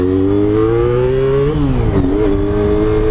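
Honda RVF 400 motorcycle engine revving close and loud, a steady buzzing drone that rises in pitch, dips sharply and climbs again over a few seconds, with no talking.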